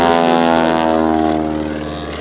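A big Showcat biplane flying aerobatics at an airshow, carrying a passenger between its wings. Its propeller engine drones loud and close, with a steady, rough buzz that eases off slightly toward the end.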